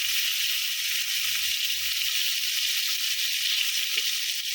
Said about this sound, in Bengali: তো এই যে আমার মাছটা ভাজা হয়ে গেছে